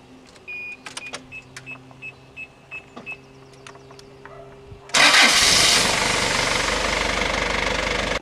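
A Mazda Bongo campervan engine cranks and catches after a series of short clicks and whirring pulses from the cabin, then settles into a steady, loud idle close by.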